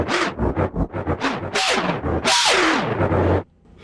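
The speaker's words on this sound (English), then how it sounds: "Now it sounds like I'm scratching." A scratching-like effect played from a free software sampler in Cakewalk: a fast series of loud rasping, zipper-like sweeps that builds into a longer roaring stretch, then cuts off abruptly.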